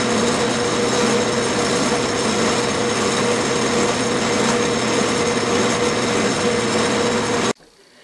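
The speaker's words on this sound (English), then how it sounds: "now ream 1/2 inch at slow speed" Loud, steady whine of a machine tool reaming a 1/2 inch hole in metal at slow speed for several seconds, then it cuts off abruptly near the end.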